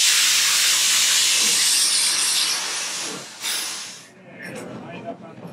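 The steam locomotive Edison at the Greenfield Village roundhouse lets out a loud, close, broad hiss of escaping steam that holds steady, then tapers and cuts off, leaving quieter rustling behind.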